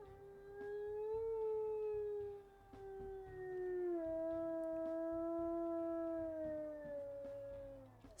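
Wolf howls from the video game WolfQuest: a long, clear, tonal howl that rises, then slides slowly downward with a brief break partway through, heard alone without talking.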